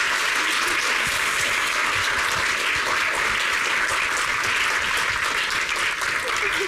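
An audience applauds a performer named Sarah Bayol, with dense, loud, continuous clapping that fills the whole stretch without pause.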